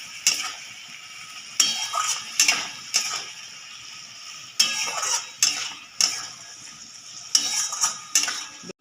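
Spice paste for a fish curry gets stirred in a pan over a high gas flame: sharp metal scrapes and clinks arrive in irregular bursts over a steady faint sizzle, close and fairly loud.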